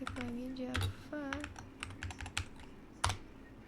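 Computer keyboard typing into a terminal, a quick run of clicky keystrokes with a firm final press, close, with a voice speaking in the background.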